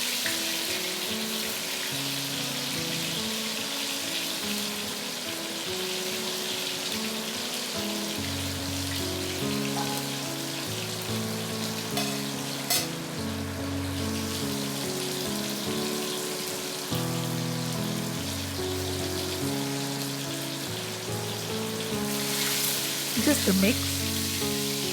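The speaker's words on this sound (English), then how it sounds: "Once the oil is heated, there goes in the eggs and the potatoes." Eggs and potatoes sizzle steadily in hot oil in a home kitchen while an egg curry is cooked, a loud continuous crackle like rain with occasional clinks; a voice speaks briefly.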